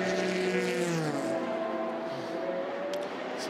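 Porsche and Ford race cars at Le Mans roar past in a pack, engines wailing with a falling pitch as they go by, then a sustained multi-car drone trailing off at a moderate distance.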